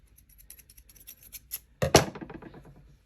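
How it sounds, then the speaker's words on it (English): Scissors snip through crochet yarn while fastening off a striped washcloth, a single close, crisp cut preceded by faint handling rustle. "Pull it long, grab our scissors."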